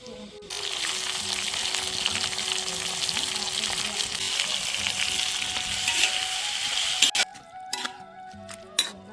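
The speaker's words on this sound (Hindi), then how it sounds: "अब इसमें डालूंगी तड़का।" Spices hit hot oil and sizzle loudly and continuously, with a crackling hiss that ends abruptly, followed by a few clinks.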